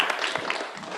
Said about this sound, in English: give big round of applause for Chris Zubicki